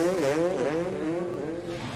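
Motocross bikes rev at the start gate of the 2022 Red Bull Straight Rhythm race, a loud, continuous engine drone whose pitch rises and falls in quick surges over two seconds.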